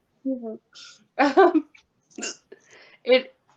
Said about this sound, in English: Your poor hiccups.